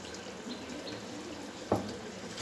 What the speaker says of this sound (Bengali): অল্প পরিমাণ মতো পানি দিয়ে দেবো।